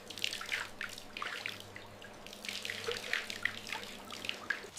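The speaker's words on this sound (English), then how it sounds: "Refreshing sound of water rinsing vegetables." Water runs and splashes over fresh vegetables being rinsed outdoors in the countryside, a steady close trickle with small drips and splatters throughout, no voices.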